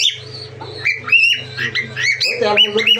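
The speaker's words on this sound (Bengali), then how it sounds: "এটা হচ্ছে কোকাটেল, হ্যাঁ এটা হচ্ছে কোকাটেল" A cockatiel of almond colouring squawking and chirping nearby, several sharp bursts over a constant low hum, with other bird calls mixed in.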